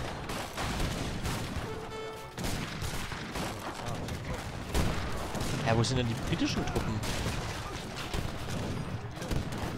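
Cannon and gunfire in an Age of Empires III battle, dense continuous rattling volleys and booming shots under someone talking throughout.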